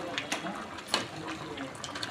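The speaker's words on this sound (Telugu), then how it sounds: "బాగా ఉడుకుతుంది ఫ్రెండ్స్" Masala rice boils in a pot, a faint, continuous bubbling and watery simmer with small pops over a brief stretch.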